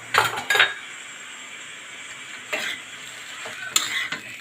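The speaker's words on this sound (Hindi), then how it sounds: "अच्छे से मिक्स कर लीजिए" A spoon scrapes and clinks against a pan while poha cooked with desi ghee is stirred and mixed, a few sharp knocks over a soft steady hiss.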